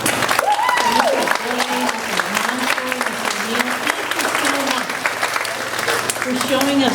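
Audience applause for arts teachers at a school arts festival, steady dense clapping from a crowd throughout, with a voice speaking over it.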